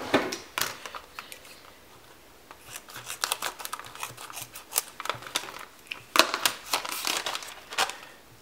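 A craft haul package is cut open and its wrapping handled, with close, sharp crinkles, snips and rustles that come in irregular bursts and grow busier toward the end, and no talking.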